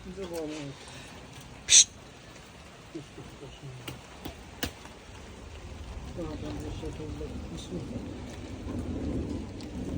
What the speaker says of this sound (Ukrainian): Слава Богу, у нас і досі йде дощ.